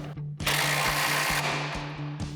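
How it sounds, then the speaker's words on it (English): A strut nut on a RAM 1500 Bilstein B8 6112 front leveling kit tightened with a 15/16 wrench and 21mm socket: a loud, close mechanical whirring burst with a steady rhythmic pulsing underneath, alone without speech. "We'll grab our 15/16 wrench and our 21mm socket and tighten this down."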